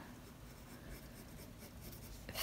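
A pen or pencil draws a curved bracket on paper for a dragon eye sketch, a soft continuous scratching stroke that is faint and close, ending in a slightly louder scrape.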